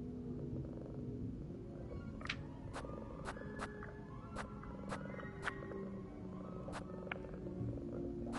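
A house cat purrs while pressed up against a person, a low, continuous rumble that holds steady throughout, with a few sharp clicks on top.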